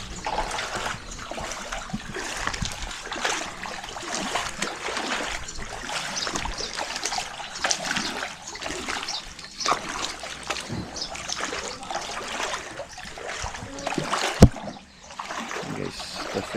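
Tidal water surging in at high tide, a steady broad wash of flowing and splashing that runs the whole time at moderate level, with one sharper knock near the end.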